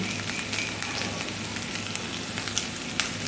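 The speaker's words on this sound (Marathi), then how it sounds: "कांदा आपला फ्राय झालाय आपण ह्याच्यात उकडलेला बटाटा टाकून घेऊ" Boiled potato dropped into fried onions in a hot pan, giving a steady, dense sizzle with faint crackles throughout and no voices.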